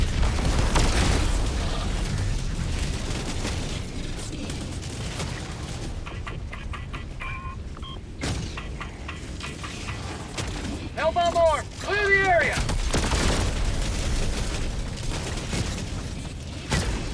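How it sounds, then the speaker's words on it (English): A Hellbomb explosion and gunfire against an automaton facility in the video game Helldivers 2: a long, dense roar of booms and rattling fire, loud and close, with a brief quieter stretch where a voice speaks over chirping tones. "Hell bomb, go boom, baby."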